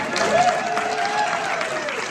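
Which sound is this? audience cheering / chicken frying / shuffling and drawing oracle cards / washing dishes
audience cheering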